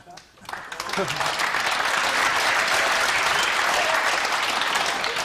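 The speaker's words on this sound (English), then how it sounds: "The applause from the combination." Applause from a pool hall crowd at a World Cup of Pool final, USA vs Philippines, rising quickly after a brief quiet start into a steady, dense clapping that holds loud to the end.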